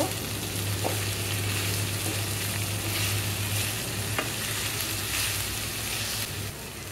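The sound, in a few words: okra frying and being stirred in a pan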